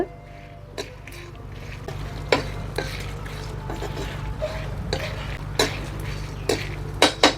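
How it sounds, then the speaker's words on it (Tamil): Coriander seeds and black pepper dry-roasting in a pan over a moderate wood fire for a village-style fish curry, with scattered scrapes and clinks of a utensil against the pan over a steady low crackling hum. "ஒரு மிதமான தீயில வச்சு கொஞ்சம் வறுத்துக்கோங்க ரொம்ப கருக விடக்கூடாது"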